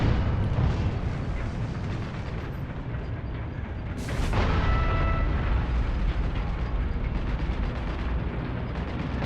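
A double rocket launcher fires in the World War II shooter Heroes and Generals, with booming, rumbling explosions and a sharp blast midway over constant battlefield noise.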